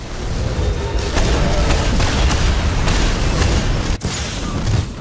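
Dense, continuous gunfire and booming blasts in the shooter game Destiny during a Winter's Run strike, loud and sustained with rapid crackling bursts throughout.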